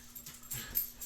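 Soft whimpers and small yips from dogs at play indoors, faint and intermittent against a steady low hum, no one talking.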